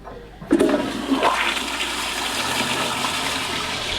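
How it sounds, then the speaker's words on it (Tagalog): A powerful high-pressure toilet in a Las Vegas hotel room flushes with a sudden loud whoosh of rushing water and air that settles into a steady, roaring drain, close by and with no talk. "kakaiba tong water closet ito kasi sobrang lakas ng flash yung pressure"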